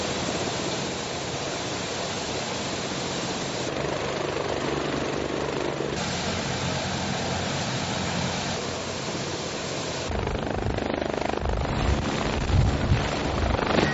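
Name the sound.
helicopter flying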